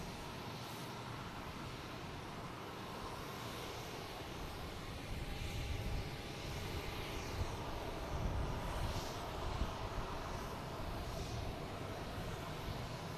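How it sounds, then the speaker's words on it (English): A United Airlines Airbus A319 arriving at Boston Logan from Newark, a steady broadband jet roar that swells slightly midway, fairly distant and sustained throughout with no talking. "We got a United Airlines, an A319 coming in from Newark."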